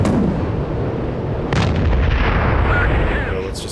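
Aircraft machine gun firing in the Strike Fighters 2 flight combat game: a dense, loud, continuous rattle of rapid shots over steady jet engine noise, with a sharper burst midway.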